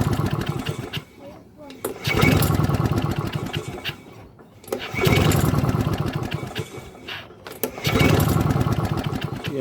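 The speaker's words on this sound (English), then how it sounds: "Okay, let's try to start the engine." A Victa Mustang two-stroke lawn mower with a weak spark is pull-started three times, each pull giving a loud burst of rapid mechanical clatter that cuts out between attempts, with people talking close by.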